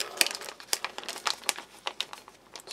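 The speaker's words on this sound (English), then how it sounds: "Nice easy tear strip there" A military ration packet's tear strip is ripped open up close, a rapid series of crisp crinkling and tearing snaps from the plastic foil, irregular and bright with no voices.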